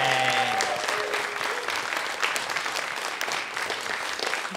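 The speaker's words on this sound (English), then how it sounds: "give him a round of applause" A live audience at a Halloween film quiz podcast recording gives a round of applause. The clapping is steady and dense, with a brief voice at the start and some cheering mixed in.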